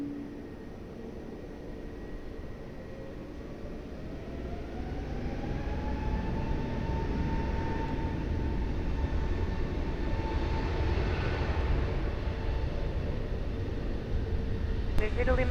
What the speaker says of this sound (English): Wizz Air 4905, wind 140 degrees, 14 knots, runway 20, cleared for takeoff